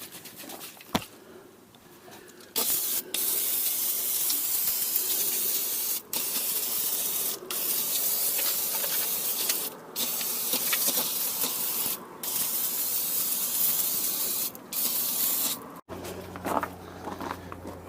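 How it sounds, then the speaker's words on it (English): Carburetor cleaner sprayed from an aerosol can onto a Bobcat backhoe attachment, a loud, close, continuous hiss in long bursts broken by brief pauses between sprays, without any talking. "My battery died about the time I started spraying carburetor cleaner"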